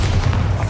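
A Bombarda explosion spell in Hogwarts Legacy lands as a single deep, heavy boom, short and loud, with a dull rumbling body.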